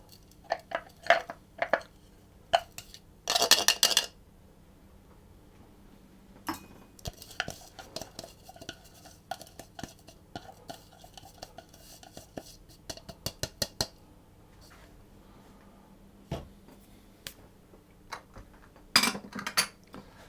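Pistachios being stirred into flour in a bowl: intermittent scraping and clinking of a utensil against the bowl, close and soft, with a few louder clattering bursts and quiet gaps between.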